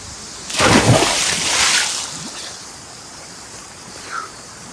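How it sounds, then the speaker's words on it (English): Water at the Semuc Champey waterfall terraces in Guatemala, a loud rushing splash that swells briefly and then fades into a softer wash, with a faint sound near the end. "there's a big waterfall and this is for sure a nice view"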